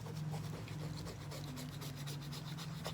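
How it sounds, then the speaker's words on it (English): A rub-on transfer is rubbed steadily onto a paper journal page, giving a continuous close, dry scratchy rasp with quick repeated strokes and no talk. "So yeah, you just continue rub, rub, rub, rub."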